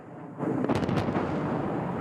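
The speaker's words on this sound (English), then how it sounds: "Explosions on hillsides" A deep, rumbling blast sets off suddenly and rolls on as a sustained low roar, like distant explosions echoing across open terrain.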